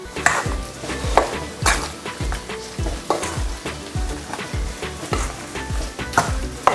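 Chicken marinade with garam masala and salt being mixed by hand, a wet, rhythmic squelching and stirring repeated about twice a second, close and fairly loud with no voices.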